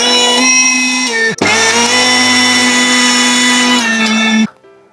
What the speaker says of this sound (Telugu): ఎండనిచ్చిన తర్వాత మిక్సీ జార్లో వేసుకొని వీటిని మిక్సీ చేసుకోవాలి